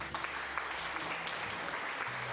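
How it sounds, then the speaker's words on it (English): A crowd applauds, a dense wash of clapping hands that stays steady and fairly loud over the short stretch, with faint voices mixed underneath. "can we give a round of applause for Pedro Pascal and Bella Ramsey for their excellent performances"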